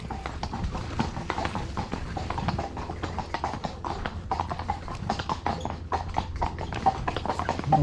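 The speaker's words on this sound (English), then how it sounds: "you can hear this horse coming up the side of him" Horse hooves clip-clop steadily on hard ground as one horse walks close alongside another, a continuous near rhythm of overlapping footfalls with no talk.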